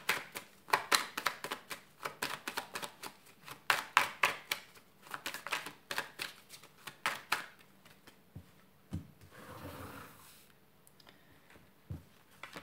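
Playing cards are shuffled for a fortune-telling draw in rapid bursts of crisp riffling clicks. The bursts are close and fairly quiet and thin out toward the end, with no speech.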